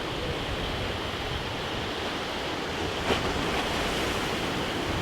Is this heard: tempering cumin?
no